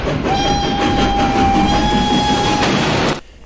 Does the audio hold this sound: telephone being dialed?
no